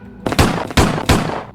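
Gunfire from a weapon in a video game plays loud and close, three heavy blasts spaced about a third of a second apart, each with a fading tail, and no voices over them.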